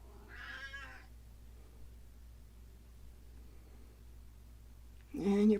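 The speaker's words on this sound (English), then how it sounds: "you're probably hearing my poor sad cat again" A cat meows twice, a soft call at the start and a louder, closer meow at the end, with near silence between.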